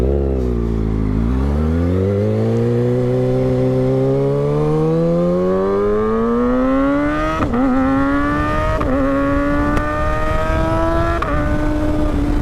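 A car moving along the road while a rider on a motorcycle follows, loud engine revving up steadily through the gears with rising pitch, wind rumble underneath and a couple of brief shifts near the end.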